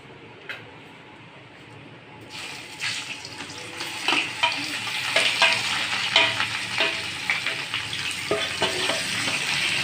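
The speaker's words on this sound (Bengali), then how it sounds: "এবার আমি ফুলকপিটা কষাই নেব" Cauliflower fries in a hot pan for a Bangla home-cooked dish, a steady sizzle swelling after a quieter start, with scattered sharp ticks and scrapes of stirring throughout; no one speaks.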